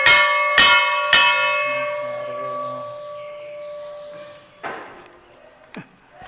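Large temple bell at a Nepali shrine struck three times in quick succession, each strike ringing out with a long humming decay, followed by a couple of softer knocks, close and loud, no talk.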